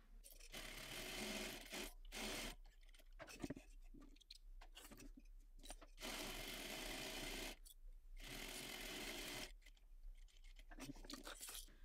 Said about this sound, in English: we're going to head over to our sewing machine, and using a half inch seam allowance, we're going to stitch along that raw edge